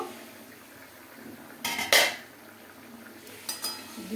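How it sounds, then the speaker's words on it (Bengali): A cooking pot's lid comes off during a potato, eggplant and river khoyra fish curry: a sharp metallic clatter rings out near the middle, with lighter clinks of metal afterward against a quiet kitchen background. "এবার ঢাকাটা নামিয়ে দেবো"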